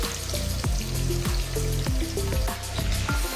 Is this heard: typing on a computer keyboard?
no